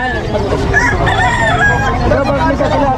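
Roosters crowing amid a busy chicken market in Bocaue, Bulacan, with clucking fowl and a murmur of people in the background.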